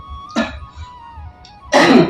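A single cough near the start, then a louder burst of coughing or throat clearing toward the end, with a faint steady tone between.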